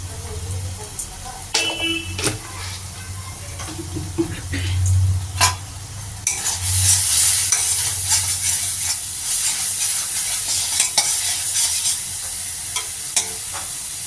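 Besan and sugar mixture being stir-fried in a pan for besan barfi curry, with scraping stirs and a soft sizzle building louder and hissier partway through, faint talk in places.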